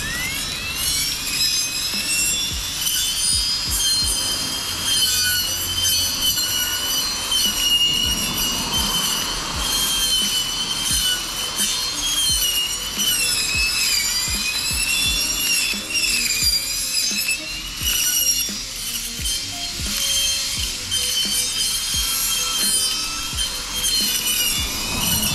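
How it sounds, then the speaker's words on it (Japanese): Brush cutter running at medium speed, cutting thick weed stems around shop grounds: a loud, continuous high-pitched engine whine with repeated rough, chopping cutting noise, steady throughout with no talk. "このむちゃくちゃ太い茎がしっかり草刈りできてます"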